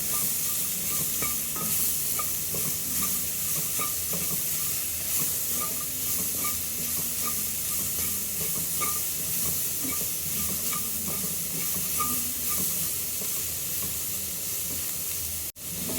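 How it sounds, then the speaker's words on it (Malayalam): Ivy gourd curry sizzles and hisses steadily in a pan while a spoon stirs it, a continuous frying hiss with faint scraping throughout and a sharp knock near the end. "ഇത് മൂടി തുറന്ന് ഇളക്കിയിട്ട് കൊടുക്കണം"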